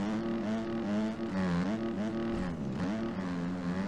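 Motocross bike engine in the MX Bikes racing game revving hard and fast, a loud, buzzing note that climbs and drops repeatedly as gears change, with other bikes droning close behind and no talk.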